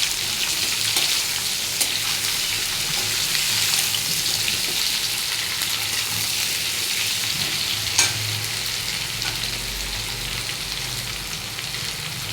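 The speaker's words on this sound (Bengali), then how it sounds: "বেগুন কুমড়ো আলু, এই সবজিগুলো আমি দিয়ে ভেজে নেব।" Eggplant, pumpkin and potato frying in a pan give a loud, continuous close sizzle with faint stirring clicks throughout, no talking.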